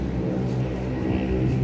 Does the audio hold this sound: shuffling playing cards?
no